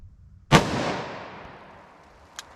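A single loud, close .357 Magnum revolver shot from a 2-inch barrel, fired single action outdoors, with a sharp crack and a long decaying echo. A faint click follows about two seconds later.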